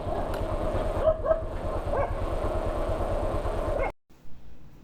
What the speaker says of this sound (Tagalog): Ano siya may aso?